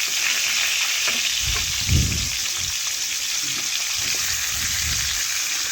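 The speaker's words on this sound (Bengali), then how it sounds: "এখন ভালোভাবে বেশ কিছুক্ষণ সময় নিয়ে মাছের এক পাশ ভেজে নেওয়া পর্যন্ত অপেক্ষা করব" Catla fish pieces, tails and two fish heads fry in oil in a wok with a loud, steady hiss. A few dull low thumps sound as the pieces shift, and no one talks.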